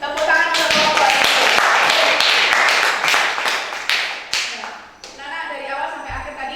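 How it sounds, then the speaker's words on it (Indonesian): Children in a classroom applaud for a group, a dense burst of many hands clapping loudly for several seconds before thinning out and stopping abruptly near the end. "Tepuk tangan untuk kelompok 3."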